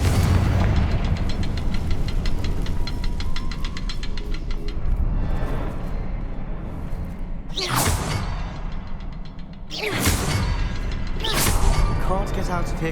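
A Confringo fire spell from Hogwarts Legacy bursting in a few loud, whooshing explosions amid a dense, rumbling game soundscape, with occasional talk.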